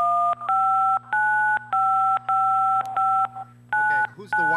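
A rapid run of two-tone telephone keypad beeps, evenly spaced and close, over a steady low hum, followed by a few faster chirps.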